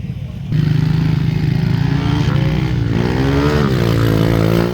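Small Yamaha V50 dirt bike repowered with a four-stroke Lifan 125 engine, revving hard on a muddy hill climb; a loud, close, steady engine drone that rises and falls in pitch as the throttle changes, running continuously with no talk.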